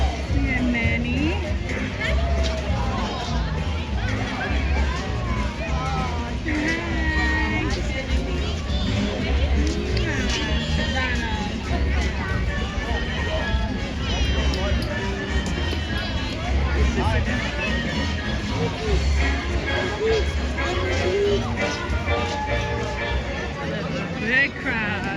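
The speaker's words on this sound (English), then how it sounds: "Big crowd." Dense crowd hubbub fills a busy outdoor theme park, Hollywood Studios, on a rainy day, a steady babble of many voices with passing motion noise, continuous and fairly loud throughout.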